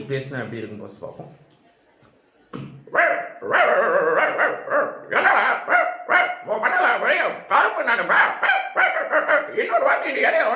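Someone imitates a dog barking with a rapid series of loud, rough bark-like vocal bursts in quick rhythm, preceded by a quieter, lower vocal passage and a short pause.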